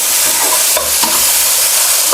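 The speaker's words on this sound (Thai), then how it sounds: "ผัดให้ถั่วงอกโดนความร้อนทั่วๆนะครับ แต่อย่าผัดนาน เดี๋ยวถั่วงอกจะไม่กรอบครับ เอาแค่ฉ่าในกระทะให้โดนความร้อนนะครับ" Bean sprouts stir-frying in a hot oiled wok give a loud, steady sizzle, with scraping stirs in between and no one speaking.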